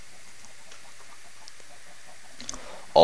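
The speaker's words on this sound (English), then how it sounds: "The chickens are already up there. They're laying their eggs." Minecraft chickens in an automatic farm give soft, scattered clucks over a quiet background, followed by a sudden louder burst at the very end.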